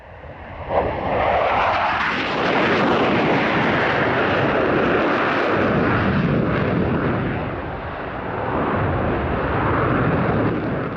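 A German Air Force F-4F Phantom jet roars past at an air show, a loud, sustained, broadband engine rumble that swells and shifts as it passes.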